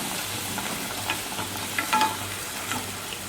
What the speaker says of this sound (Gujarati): એના ઉપર આ દહીંનું મિક્સર જે બનાવ્યું હતું એ આપણે પોર કરી દેવાનું છે